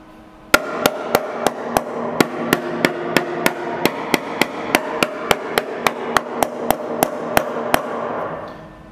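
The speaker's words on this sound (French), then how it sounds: "on prend un tout petit marteau" Small hammer tapping a freshly welded and ground body panel on a Golf GTI, about twenty sharp, evenly spaced metallic knocks ringing out close and alone over several seconds.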